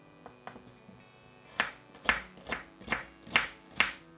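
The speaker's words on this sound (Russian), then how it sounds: "Лук нарезаю на мелкие кубики" A knife dices onion into small cubes on a board, giving a series of sharp, close chopping taps, about six of them in a fairly even rhythm after a few softer knocks, with no talking.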